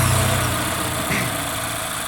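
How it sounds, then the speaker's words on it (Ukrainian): A 2020 Mazda 3 engine runs at a steady idle, a constant low mechanical hum with light vibration, close and alone with no voices. "Заводимо автомобіль Mazda 20 року."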